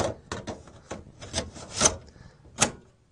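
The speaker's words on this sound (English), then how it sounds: "drop the hard disk back into its appropriate slot." A hard disk drive is set into its bay inside a computer case, a run of close, dry scraping and sliding knocks, with a few sharper clicks as the metal drive seats.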